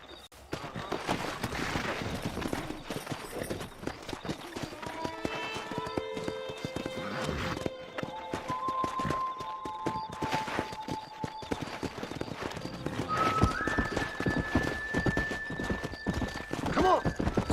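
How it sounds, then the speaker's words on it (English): Horses gallop with dense, rapid hoofbeats and loud whinnies during a wrangling scene in the video game Red Dead Redemption, while background music and occasional game sounds continue throughout. "let's see if we can't wrangle some horses"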